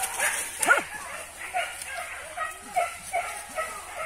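A dog named Rambo yips and barks in short bursts at moderate distance, repeating every half second or so over steady background noise while people talk nearby.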